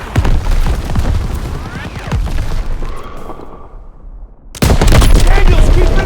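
Heavy gunfire and explosions fill a Call of Duty WWII battle, dense rapid shots and deep booms that drop to near silence for a moment before a loud burst of combat returns.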